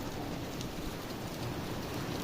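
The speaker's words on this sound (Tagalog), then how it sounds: "Patak ng ulan." Heavy rain pours steadily onto a house roof and cooking area, a dense, continuous hiss of drops spattering close by with no voices.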